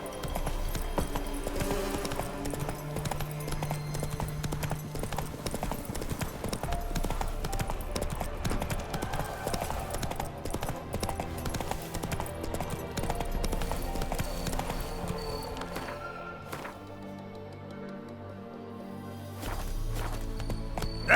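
Geralt's horse Roach trotting in The Witcher 3, with rhythmic clip-clop hoofbeats running steadily over game music and ambience, then briefly thinning out near the end.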